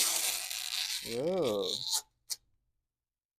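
Masking tape being peeled off paper paintings, heard as a dense, papery tearing rasp lasting about two seconds, briefly overlapped by a voice, then a short final snap as the strip comes free.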